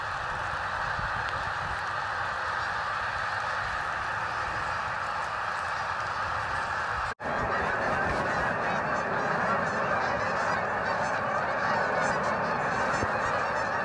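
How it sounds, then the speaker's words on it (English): Thousands of geese honk continuously overhead in rainy weather, a dense, steady chorus of calls that fills the air without pause, loud and sustained, with only a momentary cut midway. "I don't know if you can hear this, but there is thousands of birds about to fly overhead."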